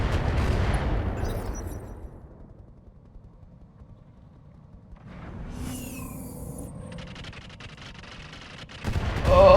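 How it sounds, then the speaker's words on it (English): A volley of rockets launches in the Roguetech mech game, a loud rushing roar that fades, then another whooshing barrage builds with rattling mechanical noise and a final loud burst at the end. "Oh, that's a lot of rockets."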